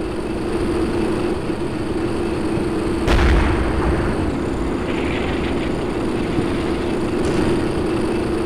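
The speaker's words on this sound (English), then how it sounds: "in the foreground mortars landing, and what that is it's smoke rounds" Mortar rounds landing in the wargame Combat Mission Shock Force, a heavy thump around the middle and a lighter one near the end over a constant low rumble of battle ambience.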